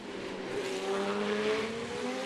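Formula 3 race cars with 3.4-litre engines scream past at the Macau street circuit, a high, rising engine note that holds briefly and carries at moderate volume without voices.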